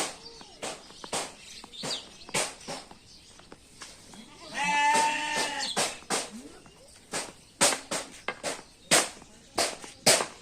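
Goats bleat over and over in a village on the bank of the Padma river. The short calls come at an uneven pace, with one longer, wavering bleat in the middle and faint background sounds between them.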